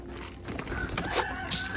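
Chickens on a homestead at morning feeding time, clucking and squawking softly at close range over a low background.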